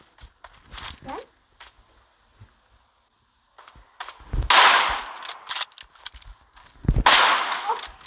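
Bursts of gunfire from a video game crack out in two loud clusters, with sharper single shots scattered between them and players talking over the action.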